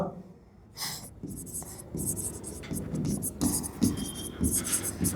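Pen scratching on paper while writing out a class 9 English assignment, close scratchy strokes in short bursts, with a voice talking over much of it.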